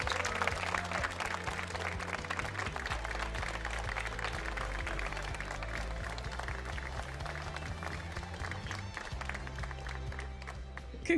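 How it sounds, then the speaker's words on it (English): Continuous applause from a crowd at a Pokémon trading card game regional championship in Frankfurt, a dense, even patter of clapping that holds steady throughout, with faint musical tones underneath. "Let's give a huge round of applause for Tord!"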